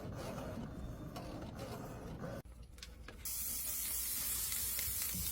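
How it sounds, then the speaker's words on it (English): An aerosol spray can lays down a light coating from a few inches away, giving a steady hiss that stops briefly partway through, followed by a short rattle and a louder, continuous spray. "You just want to do a light coating from a few inches away."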